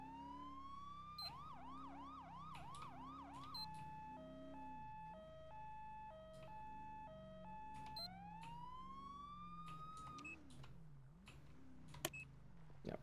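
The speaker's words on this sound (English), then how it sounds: "Also, I have the good old siren on here too." A video game police siren on a retro 1983 Dodge Diplomat cycles through rising wails, fast yelps and a two-tone hi-lo pattern, steady and fairly quiet, with no speech.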